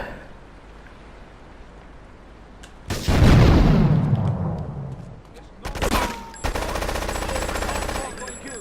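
Gunfire in the video game GTA3: a sudden loud burst of shots at about three seconds decays into rumbling, then more rapid bursts of automatic fire follow, with game sounds in between.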